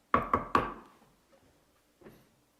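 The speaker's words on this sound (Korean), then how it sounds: "베드로가 지금 그 마리아의 집 앞에 나타나서 문을 두드린 겁니다" Someone knocks on a wooden door with three sharp, loud raps in quick succession, then a single softer knock after a pause, with silence between.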